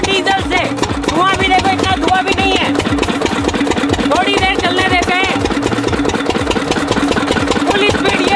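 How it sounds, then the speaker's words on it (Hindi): A small diesel engine running on homemade bio-diesel chugs steadily and loudly throughout, with a constant rhythmic mechanical knock and clatter and no pauses. "डीजल पे इस इंजन को ज्यादा नहीं चलाएंगे क्योंकि इससे खराब हो सकता है"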